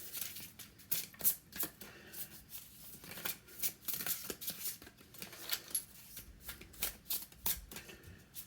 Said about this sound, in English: I'm getting told to shuffle again